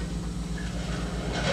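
A train rolls along with a low, even rumble and faint rhythmic pulsing, steady and unbroken for a brief moment.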